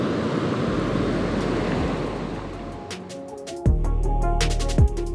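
Broadband ocean surf washing onto a beach, a steady rushing roar for about three seconds, then quieter with brief clattering hits and two short low thumps near the end.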